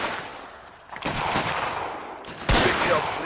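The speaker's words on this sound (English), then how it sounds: "Alright, folks, fire on the right." Rifle gunfire in a Mount & Blade Anglo-Boer War battle: a few loud, sharp shots crack out, separate ones near 1 and 2.5 seconds, over a steady, busy background of distant firing.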